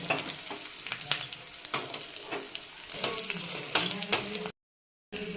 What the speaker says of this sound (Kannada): ಸ್ವಲ್ಪ ಕರಿಬೇವು ಹಾಕಿದೆ ಆಮೇಲೆ ಕೊಬ್ಬರಿ ಇದು ರೀ ಬೆಳ್ಳುಳ್ಳಿ ಜಜ್ಕೊಂಡಿದ್ದ ಹಾಕೊಳತ್ತೀನಿ ನೋಡ್ರಿ ಇವಾಗ ಇದು ಎಣ್ಣೆ ಒಳಗೆ ಚೆನ್ನಾಗಿ ಫ್ರೈ ಆಗ್ಬೇಕು